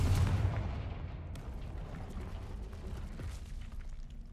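A Confringo spell explosion in the Hogwarts Legacy video game opens with a deep booming blast that decays into a long rumbling tail, loud and alone with no voices.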